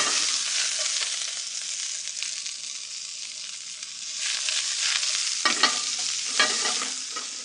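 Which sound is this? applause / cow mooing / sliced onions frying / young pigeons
sliced onions frying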